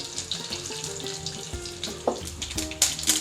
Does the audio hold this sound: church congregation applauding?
no